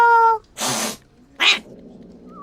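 Timi the cat lets out a short, loud tonal meow, followed by two bursts of breathy hissing noise, with a quieter background hum between them.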